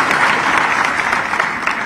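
Crowd clapping loudly at a regional industry conclave event in Rewa attended by the chief minister, a close, dense burst of applause filling the short stretch without talk.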